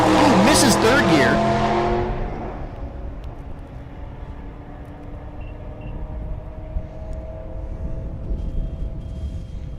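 A gasser-class drag car with a Chrysler wedge engine and stick shift roars off the line at the 2023 Rocky Mountain Race Week, loud and close, climbing through gears with a missed third gear, then fading fast into the distance while an announcer talks.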